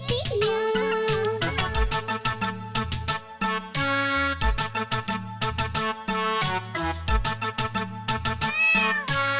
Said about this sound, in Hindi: म्याऊं म्याऊं म्याऊं म्याऊं, बिल्ली करती म्याऊं।